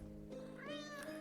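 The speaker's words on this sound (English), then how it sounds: "Kitty came to say hello." A single cat from The Legend of Heroes: Trails of Cold Steel gives one short, quiet meow over a soft background hum, with no talking.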